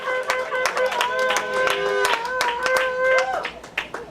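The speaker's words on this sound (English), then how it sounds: "Give him a clap offering in the house of Yahweh." A congregation claps in rhythmic bursts during a worship service, the hand claps sounding close under sustained singing or organ-like tones.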